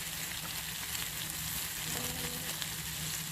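Peppers fry on a backyard barbecue grill with a dense, steady sizzle and crackle close by and no talk.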